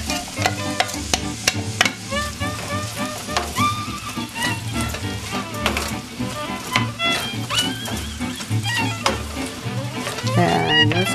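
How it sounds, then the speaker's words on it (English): Chopped celery and onions sauté in a pan, a steady crackling sizzle with stirring scrapes running through the whole stretch beneath louder background music. "I'm just going to saute for a few minutes"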